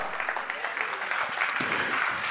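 A church congregation clapping together, a dense steady patter of many hands heard at a moderate distance for a couple of seconds, with no one speaking over it.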